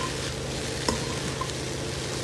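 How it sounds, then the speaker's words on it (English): Shrimp fried rice with a handful of green onion tossed in a pan off the heat, a close, even sizzle with a single scraping knock of the spatula partway through, no voices. "I'm going to give that a toss together"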